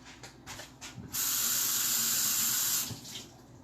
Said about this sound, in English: let me wash my spoon